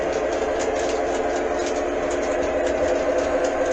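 A model train pulls a Burlington caboose along the track with a steady, continuous rumbling hum and rattle. It is close and fairly loud, with no talk.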